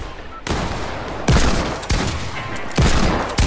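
A video game firefight produces bursts of rapid gunfire that come in several loud, dense volleys with brief gaps between them, up close and dominating the sound.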